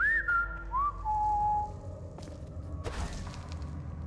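A character in Skyrim Anniversary Edition whistles a few rising then falling tones, clear and fairly close, followed by soft thuds and a whooshing rush with no talking.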